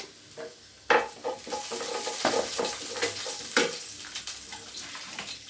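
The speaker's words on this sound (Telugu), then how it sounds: "మనం కొద్దిగా మినపప్పు కొంచెం ఆవాలు కొంచెం జీలకర్ర ఎండుమిర్చి కొంచెం కరివేపాకు వేసుకొని కలుపుకుందామండి" Urad dal, mustard seeds, cumin, dried red chillies and curry leaves sizzle in hot oil in a pan, with a steady fry hiss broken by several sharp stirring scrapes and spoon clinks, close up and without speech.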